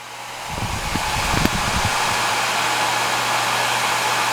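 A loud bitcoin mining machine powers up with a brief rattling start, then settles into a steady, intense whoosh of high-speed cooling fans at about 86 decibels.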